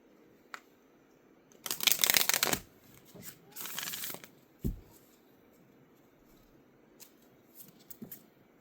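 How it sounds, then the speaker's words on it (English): Oracle cards from a Moonology deck are shuffled in two brisk bursts of riffling and flicking, followed by a few soft taps and card handling in a quiet room. "Let's pull a Moonology and then we'll get started on Tarot."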